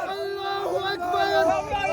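A crowd of protesters in Occupied Kashmir chants religious slogans together, a sustained, steady, voiced chant of many people at moderate volume that continues throughout.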